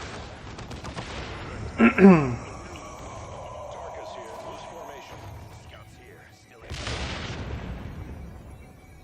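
Gunfire from a Devastator heavy-weapons squad in the strategy game Dawn of War 2, with crackling bursts and a loud blast around two seconds, then renewed firing near the end, under game effects.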